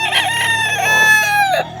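An Elevator Kelso gamefowl rooster crows once close by, a loud drawn-out call that rises and then drops away at the end.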